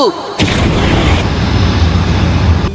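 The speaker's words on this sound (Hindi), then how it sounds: "fire style fireball jutsu" In a Naruto anime fight, a Fire Style Fireball Jutsu erupts after a brief lead-in as a sudden loud blast, then swells into a dense, sustained roaring rush.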